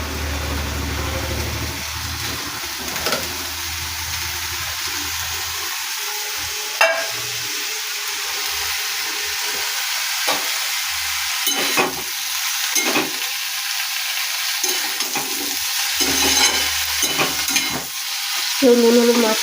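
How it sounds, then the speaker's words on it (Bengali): Sliced bitter gourd sizzles and fries in a hot wok, a steady loud crackle with occasional stirring scrapes and clanks, heard alone without talk throughout. "যে কড়াই গরম হয়ে গেছে, আমি উচ্ছেগুলো ধুয়ে কেটে রেখেছিলাম,"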